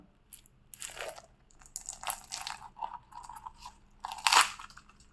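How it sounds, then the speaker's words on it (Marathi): Crispy deep-fried Maharashtrian sajuri made from rice and jaggery is bitten and chewed close up, giving several sharp, brittle crunches in irregular bursts against a quiet background. "किती खुसखुशीत आहे हे आवाज ऐका"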